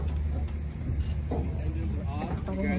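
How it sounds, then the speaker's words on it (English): Airboat engines run in the Florida Everglades as a steady, loud low rumble that fills the whole moment, while people talk over the drone. "Engines are on."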